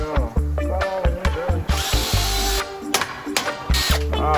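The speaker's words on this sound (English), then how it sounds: "I think you grab the dullest drill bit I got." A worn, dull-bitted power drill bores into the metal of a 21-foot boat trailer, whining loudly in bursts that stop and restart, with close mechanical grinding throughout.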